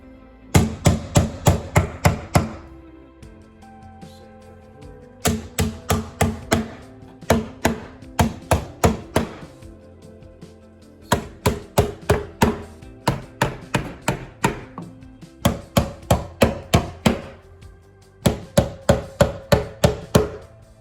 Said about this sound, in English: And I'm gonna nail that on quick.